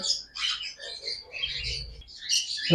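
Lovebirds in cages at a bird sale chirp and tweet in short overlapping bursts, a busy, fairly close chorus of small high calls with brief gaps.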